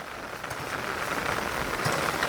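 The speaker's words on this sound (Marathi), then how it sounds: "आज पाऊस पण जोरात पडला, त्यामुळं काम चांगलं झालं." Heavy rain pouring steadily on Konkan paddy fields during rice planting, a dense, even hiss of drops with no voices.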